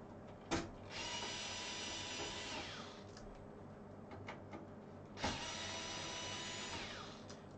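A cordless screwdriver whirs steadily while taking apart a computer, two long buzzing runs separated by a short pause, each starting with a sharp click, close and fairly quiet.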